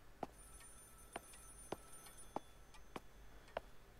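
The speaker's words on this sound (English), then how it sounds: "There's a phone ringing." Faint, distant telephone in the horror game Maid of Sker sounding six short, evenly spaced ringing pulses over quiet ambient hum, with no talk.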